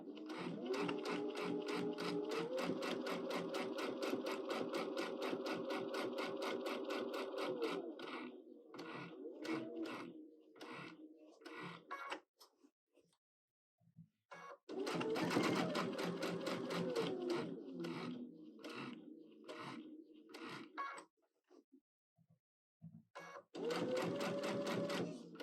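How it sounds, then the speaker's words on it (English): Close sewing machine stitching a foundation-paper-pieced quilt block, long bursts of rapid rhythmic needle clatter that halt for pauses, restart, and stop again, with no one speaking. "I'm making sure that I'm stitching on that line that's marked with the Hera marker"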